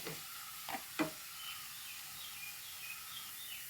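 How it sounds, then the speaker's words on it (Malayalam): Crushed ginger and garlic fry in a pan for chana masala, a faint, distant-sounding hiss with two brief scraping stirs early on and soft chirps in the background; no one speaks. "ഇതിൻ്റെ പച്ചച്ചവി ഒന്ന് മാറുന്ന വരെ ഒന്ന് ഇളക്കി കൊടുക്കട്ടെ"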